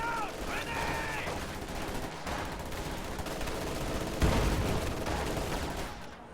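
Machine gun fire from a double MG position in a war strategy video game, sustained rattling bursts mixed with scattered gunshots and battle noise, moderately loud, with a louder impact near the end.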